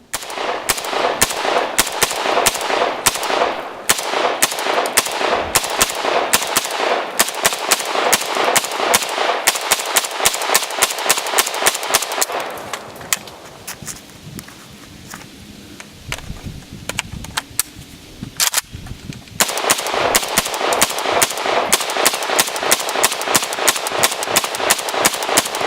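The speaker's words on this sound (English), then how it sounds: "We're going to be firing 180 rounds, that's 6 30-round mags through this AK-74" AK-74 rifle fitted with a light mount fires rapid rounds outdoors, loud sharp shots in fast strings, a short quieter break with scattered shots midway, then sustained rapid fire resumes.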